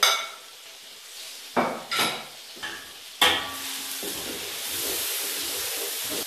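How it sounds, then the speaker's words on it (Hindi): Cumin seeds and turmeric crackling and hissing in a hot pan, with a few metallic clinks and scrapes of stirring before a steady sizzle takes over. "बस थोड़ा सा ही भूनना है ताकि ज़ीरे को थोड़ा तड़का लग जाए।"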